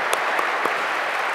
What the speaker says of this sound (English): let's give a round of applause to our panelist speakers